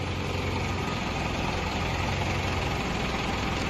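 A Mitsubishi 115 hp six-wheel truck engine runs with a steady, loud, close drone and rumble that holds even for the whole stretch.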